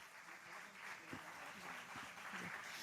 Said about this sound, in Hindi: आपका तालियों की गड़गड़ाहट के साथ हम हार्दिक स्वागत करते हैं